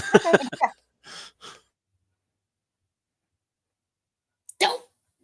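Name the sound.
puppies barking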